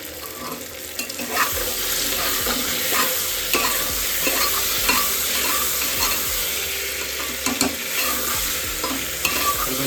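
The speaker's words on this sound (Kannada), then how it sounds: "ಸೊ ನಾನೀಗ ನೆಕ್ಸ್ಟು ಟೊಮೆಟೊ ಹಾಕ್ತಿದ್ದೀನಿ." Tomatoes and onions fry in a pan: a loud, continuous close sizzle with scraping and clattering of a stirring spoon against the pan throughout, and no voices.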